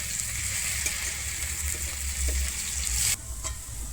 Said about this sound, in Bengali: আমি পেঁয়াজটা দিয়ে কিন্তু খুব ভালোভাবে ভেজে নেবো